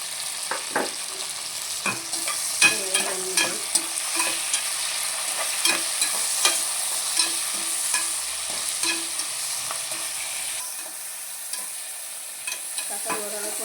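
Tomatoes with salt fry and are stirred in a home pan for a mushroom biryani, giving a steady sizzle with repeated scraping strokes of a spoon through most of the clip.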